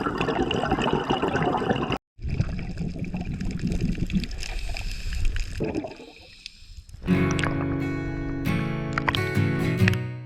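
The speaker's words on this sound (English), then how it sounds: "I myself find me the most disturbing thing, the air bubbles." Underwater air bubbles near a sailboat anchored at the remote Herald Cays, a continuous gurgling, rushing hiss broken by an abrupt cut and shifting into a brighter, denser bubbling roar in the final seconds.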